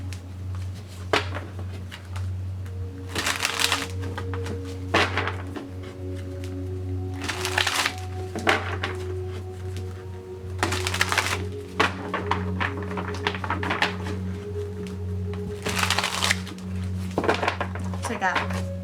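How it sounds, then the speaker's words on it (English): Wizard's Tarot cards are shuffled in repeated bursts of riffling and tapping, close and clear, with a steady low hum underneath. "I'm going to go ahead and start shuffling with the Wizard's Tarot and see what cards come out."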